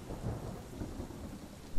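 Thunderstorm with heavy rain and wind: a dense, steady wash of rain and low rumbling thunder fills the clip, loud and continuous with no voices.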